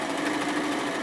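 A sewing machine runs a bomber jacket sleeve seam, a loud, continuous motor hum with a steady buzzing texture, heard up close and uninterrupted.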